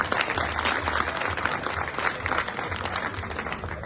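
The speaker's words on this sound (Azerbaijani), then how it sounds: "Və sizdən bir xahişimiz, o gənclərimizi bir alqışlayaq." An audience at a school reading event applauds students who scored highly in their graduation exam, a dense, steady wash of clapping from a roomful of people that carries through without pause.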